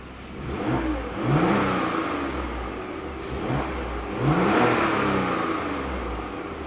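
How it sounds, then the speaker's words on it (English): A 3-liter V6 in a 2015 Porsche Macan S revs twice, each blip rising and falling in pitch over a low steady idle, close and fairly loud with no talking. "Beautiful sound from that 3-liter V6 engine."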